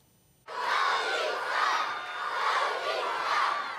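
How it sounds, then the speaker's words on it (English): Crowd of elementary school children cheering and shouting for the Toronto Maple Leafs, a sudden loud burst of high voices that stays sustained and energetic throughout. "Q Beach Junior Public School students cheer on the Leafs"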